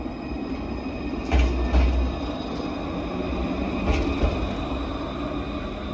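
Steady rumbling tram noise in Ireland with a few brief squeals and knocks, a continuous ride sound with no talking.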